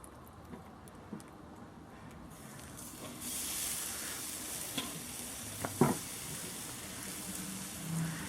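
Quiet, crackling sizzle of meat on a hot grill, with a few clanks and scrapes of utensils popping up over the steady frying hiss.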